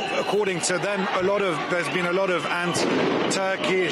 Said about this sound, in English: I think you might be able to hear the detonations, the minor explosions behind me.